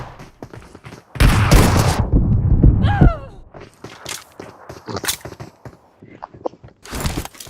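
Loud burst of rapid gunfire in a squad-based mobile shooter game at close range, followed by sparse single shots and scattered game effects; no talking heard.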